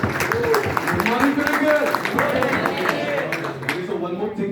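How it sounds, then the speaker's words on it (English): An audience at a business presentation claps to welcome a speaker, a dense, loud round of applause with voices and crowd murmur mixed in throughout. "Please guys, give a big round of applause."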